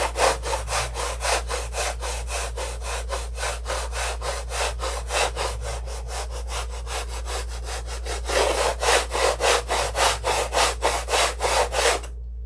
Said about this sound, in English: we can sand into those